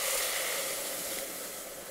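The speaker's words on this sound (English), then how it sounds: "We're going to go ahead and deglaze this pan now with 1/2 cup of ale." Stone Brewery Arrogant Bastard ale hits a hot pan of bison bacon and garlic, producing a steady broad hiss of sizzling that fades slightly over a couple of seconds, close and alone.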